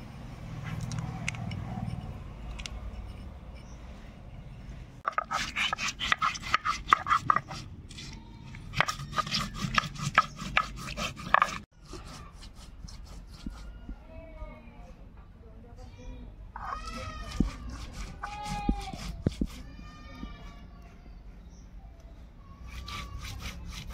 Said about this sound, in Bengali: এখন আমি মশলা বেটে নেব।